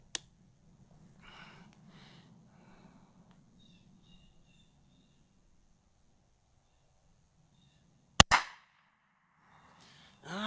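A J. Stevens New Model 40 pocket rifle fires one sharp, loud crack outdoors, with a brief echo. Faint bird chirps and quiet rustling come before it, and another short impact sounds at the very start.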